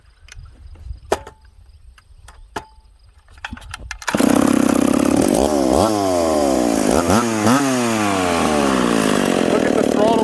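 A piped McCulloch Pro Mac 850 chainsaw starts out quiet with faint clicks, then roars in loudly at about four seconds and revs up and down repeatedly, cutting wood with a harsh high buzz close by.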